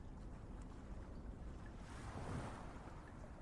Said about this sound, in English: just that whoosh of crashing waves onto what almost like a shore-like sound, like when waves are crashing in at the beach